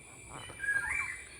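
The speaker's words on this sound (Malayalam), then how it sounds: "പക്ഷികളുടെയും മൃഗങ്ങളുടെയും എല്ലാം നമുക്ക് കേൾക്കാം" A single bird gives a short, faint rising chirp in a forest frequented by wild elephants, with soft ambient hiss around it.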